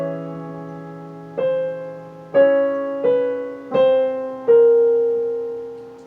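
A solo piano plays one measure of the Adagio sostenuto from Rachmaninov's Piano Concerto No. 2, five distinct chord strikes over a sustained bass, each ringing and decaying before the next, close and clear with no talking.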